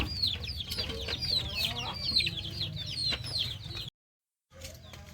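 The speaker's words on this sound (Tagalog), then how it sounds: "Mga manok. Mga pato ko." Backyard pet chickens and ducks cluck and chatter close by, repeated short calls overlapping over a low rumble before a brief cut to silence and a faint return.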